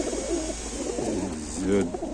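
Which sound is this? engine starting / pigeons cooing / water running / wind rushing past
pigeons cooing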